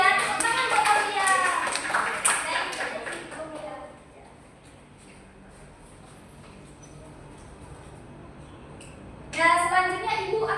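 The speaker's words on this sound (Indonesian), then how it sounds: "Tepuk tangan buat Aulia." Third-grade schoolchildren in a classroom clap for a classmate, quick overlapping claps mixed with children's voices for about four seconds, then a quiet stretch before a brief burst of voices and claps returns.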